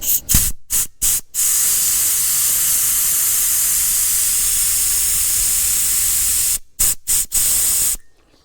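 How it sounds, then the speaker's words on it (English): Pressurized gas escapes from a refurbished cylinder in a loud, steady hiss lasting several seconds, with short choppy bursts at the start and again near the end. "Now we need to release some more pressure."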